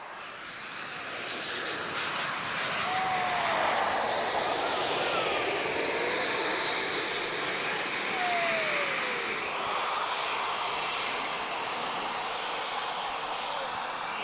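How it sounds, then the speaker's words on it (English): A Eurowings Airbus A319-132 arriving from Stuttgart touches down at Lisbon airport. Its loud, steady jet roar fills the whole stretch, with faint whining tones gliding through it as the aircraft passes close by. "So Eurowings about to touch down, guys. This is A319-132."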